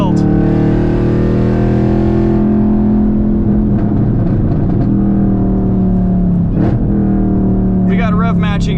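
A 2022 Chevrolet Camaro ZL1 with a manual gearbox roars loudly on a race track, its engine droning with a strong deep hum that shifts pitch and revs as the car drives, with a person talking over it.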